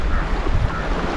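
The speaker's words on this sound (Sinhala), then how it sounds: "මම දැක්ක ලස්සනම බීච් එකක්." Surf washing onto a beach on Delft island, Sri Lanka, a steady close rush of breaking waves with wind buffeting the microphone, no voices.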